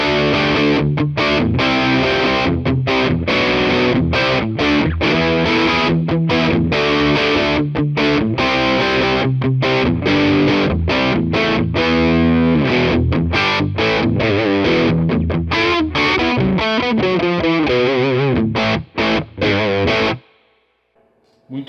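Electric guitar through a Rivera Hundred Duo Twelve amp on its overdrive channel, driving distorted riffs with rapid chugging rhythm and sustained chords, loud and continuous for about twenty seconds before stopping abruptly.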